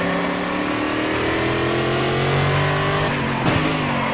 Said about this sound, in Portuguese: Desligar o carro, ligar o contato de novo e apertar o botão de arranque do carro para iniciar a partida.